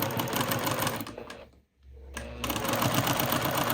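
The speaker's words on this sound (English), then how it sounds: "feed the edges, curved edges together as they go under the presser foot" A domestic sewing machine runs a curved quilt seam in rapid, close stitching bursts, stopping briefly for a second before the motor hums and stitching resumes.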